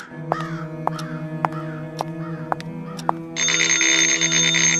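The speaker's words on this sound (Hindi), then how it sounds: "थोड़ी देर बाद फिर से टेलीफोन बजने लगता है।" An electronic telephone rings in a repeating pattern of bright chirping tones, then shifts into a louder, sustained trill, clear and close.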